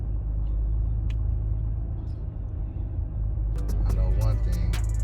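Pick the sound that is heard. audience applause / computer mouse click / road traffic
road traffic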